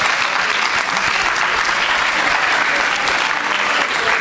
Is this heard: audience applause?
yes